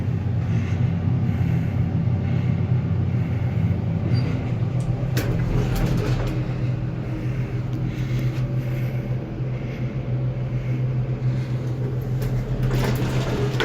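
A vintage Montgomery hydraulic elevator in Palo Alto runs while low on oil, giving a steady, loud mechanical hum with a few faint clicks and clunks along the way.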